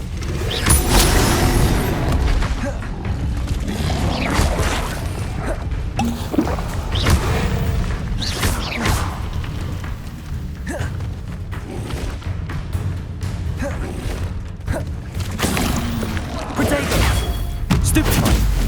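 Spell combat in Hogwarts Legacy, with the Incendio fire spell cast among other spells: loud booms, crashes and thuds come in rapid bursts over a continuous rumble, with shouted voices in between.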